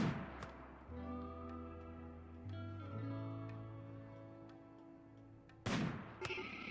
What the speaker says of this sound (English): So let me open fire on Zill instead.